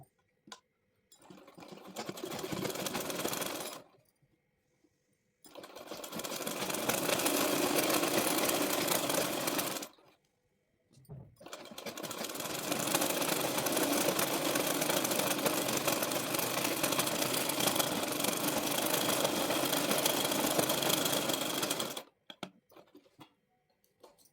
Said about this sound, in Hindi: सीधी सिलाई लगा देंगे